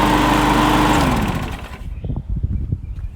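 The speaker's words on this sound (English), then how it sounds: "Let's see how loud the lawnmower is." A loud lawn mower engine roars steadily, then cuts out and sputters down, leaving a few rough knocks and rattles as it dies.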